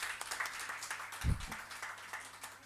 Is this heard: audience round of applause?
yes